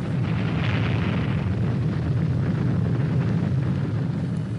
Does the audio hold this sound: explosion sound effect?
yes